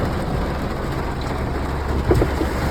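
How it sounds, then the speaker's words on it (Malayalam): Heavy rain pours down around a vehicle, a loud steady wash of noise with a few heavier bumps late on. "നല്ല മഴയുണ്ട്."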